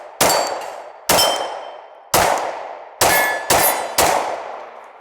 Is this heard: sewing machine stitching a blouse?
no